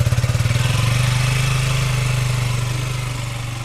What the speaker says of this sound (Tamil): ஸோ எக்ஸாஸ்ட் சவுண்ட் பார்த்தீங்கன்னா கண்டிப்பாக நல்லாவே இருக்குது